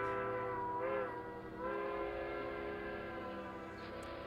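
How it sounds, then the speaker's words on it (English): A steam train whistle sounds near a college campus, a sustained tonal blast that wavers and bends in pitch over a low rumbling railway background, with no talk. "the sound of trains arriving and departing fill the air day and night"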